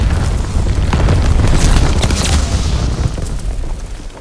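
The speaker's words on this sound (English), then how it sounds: "Artillery shot out." A heavy artillery explosion in the game Call of Duty WW2 booms loud and deep, then rumbles and crackles as debris settles over several seconds.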